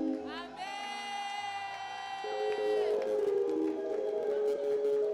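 A church congregation at a special worship service cheers and shouts in acclaim, the crowd noise building and swelling under a sustained tonal sound.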